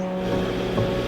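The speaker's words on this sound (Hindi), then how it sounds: "रास्ते के एक मोड़ पर झरने की आवाज गुनगुना उठी" A mountain waterfall beside a road gives a steady, close rushing wash of falling water, continuous and unbroken, with no voices.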